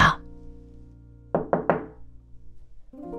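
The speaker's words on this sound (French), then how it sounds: "Il frappa." Knocking on a wooden house door in a French children's bedtime story: three firm knocks in quick succession, loud and close, after a brief sound at the start, with no voice over them.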